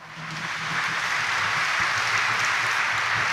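A congregation at a Quiapo Church mass claps together, a steady, fairly loud wash of applause that builds and holds for a few seconds.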